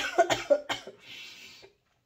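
A short fit of several coughs close to the microphone, three or four harsh bursts, followed by a breathy exhale and then silence.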